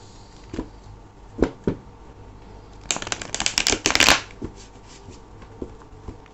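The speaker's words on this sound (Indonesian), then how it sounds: "kita akan langsung shuffle kartunya" A tarot deck is shuffled close up, starting with a few separate card taps and then building into a dense riffling flurry before easing back to scattered taps. No one speaks.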